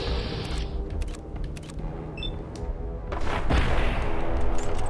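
Gunfire in the video game Fallout 4, a run of sharp shots cracking over a dense, steady game soundscape, growing louder and busier toward the end.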